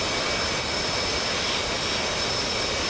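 An F/A-18 jet engine roars steadily while the aircraft taxis in the DCS flight simulator, a loud unbroken broadband rumble with no voices.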